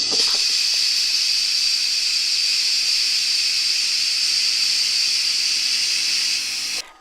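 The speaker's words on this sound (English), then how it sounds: "and then you release the pressure" Steam vents from the pressure release of a COSORI pressure cooker in a loud, continuous, even hiss that lasts about seven seconds before cutting off abruptly.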